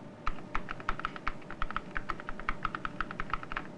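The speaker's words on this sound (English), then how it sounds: "I'll use a keyboard to input most of my information." Rapid, steady keystrokes on a computer keyboard as data is entered to build a bar graph: a crisp, close run of clicks at an even rhythm over a low background hiss, with no voices.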